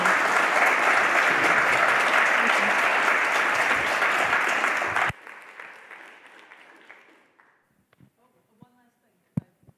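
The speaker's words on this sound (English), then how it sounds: "please join me in giving a huge round of applause to our speakers today" Audience applauding speakers after a talk about the murder of Madam Bessie Jones in Carlisle, loud sustained clapping that cuts off abruptly midway, leaving faint scattered claps, shuffling and a few sharp knocks in a quiet room.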